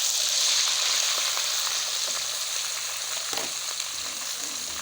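Ginger garlic paste sizzling in hot oil with whole garam masala in a pan for white mutton karahi, a steady bright crackling fry with occasional stirring scrapes, close and continuous.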